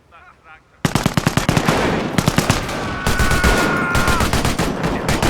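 Rapid bursts of machine gun fire from the World War II strategy game Company of Heroes, loud and close, rattling in sustained volleys with a drawn-out whistling tone over part of it.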